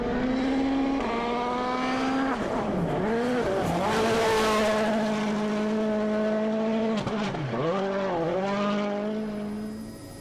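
A Citroën DS3 rally car at full attack on the power stage, its engine screaming through rising and falling revs with sharp gear changes and lifts, loud and close, no talk.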